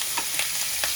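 Chicken fries in a pan over low gas, giving a close, steady sizzle with a few soft stir-like scrapes, and no voices are heard.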